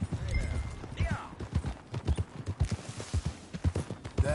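Horse hooves from Red Dead Redemption 2 clop in a steady trotting rhythm at moderate volume, with a faint character voice over them.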